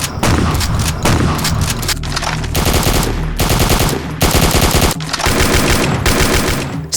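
World War-style guns fire in the Rooster mod for the video game DOOM: loud, dense automatic bursts rattle almost without pause, with a few short gaps between volleys.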